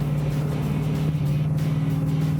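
A car with a three-speed automatic transmission accelerates in first gear at about half throttle, giving a loud, steady engine drone close by that holds an even pitch throughout.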